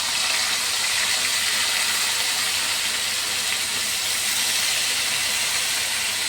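Washed tanjariya greens go into a pan of cooked tomatoes, producing a loud, steady steaming hiss that holds unbroken throughout, with no voices over it.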